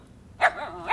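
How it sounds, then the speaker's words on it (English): A cartoon dog gives a couple of short, sharp barks close by, a quick yap followed by a second bark a moment later. "We heard some barking just now, Paddington."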